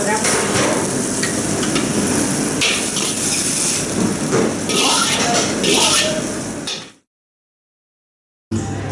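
A restaurant kitchen wok is stirred vigorously, with continuous loud metallic scraping and clanging over a sizzling roar for about seven seconds, voices talking nearby, before the sound cuts out abruptly.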